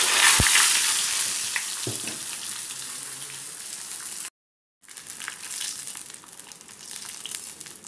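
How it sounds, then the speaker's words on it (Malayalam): Sago papadam frying in hot oil, a steady bright sizzle with a few sharp pops and crackles, close and continuous, cutting out briefly to silence before the sizzle returns a little quieter. "എണ്ണ നന്നായി ചൂടായതിലേക്ക് സാഗോ പപ്പടം ഇട്ട് വെച്ചു."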